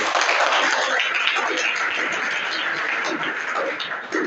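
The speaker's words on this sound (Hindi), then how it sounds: "तालियां हो जाए इनके लिए" A classroom of students at an inter college in Mathiya, Ambedkar Nagar claps for a classmate's correct quiz answer: dense, steady applause filling the room for several seconds, loud and continuous, fading slightly near the end.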